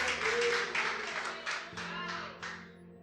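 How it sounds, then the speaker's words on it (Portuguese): A church congregation claps and applauds in praise, a dense wash of hands in several surging waves that fade toward the end, with a voice speaking underneath. "Aplaude o Senhor com gosto, com vontade, dê glória a Deus"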